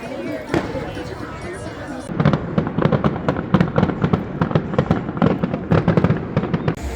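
Fireworks at night at the Kings Dominion amusement park burst in a rapid, crackling volley of sharp pops after a single early bang, with people talking and the crowd audible underneath.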